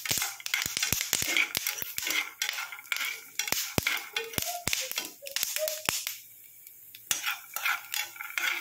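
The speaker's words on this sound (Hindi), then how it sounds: "देखिए कैसे दाने आवाज दे रहे हैं चिटक चिटक के।" Home-grown peanuts roasting in oil in a pan over low heat, crackling with sharp irregular pops and clicks over a soft sizzle, dense at first and thinning out, close and with no voices.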